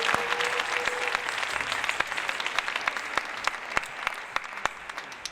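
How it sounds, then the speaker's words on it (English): Audience applause in a packed hall at a women's stage performance event, dense sustained clapping with distinct sharp claps standing out close by, steady and loud throughout. "let's just give them a big round of applause"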